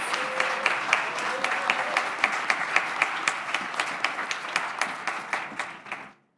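Applause from a graduation ceremony audience for three student speakers, dense clapping that thins into distinct individual claps and stops abruptly, with no talk heard.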